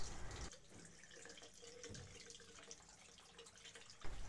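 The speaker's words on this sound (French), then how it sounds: "Elle utilise de l'eau du robinet et s'assure que la température est à 40 degrés." Tap water runs steadily into a sink at about 40 degrees for ear irrigation. It is a faint, continuous splashing trickle with no voices.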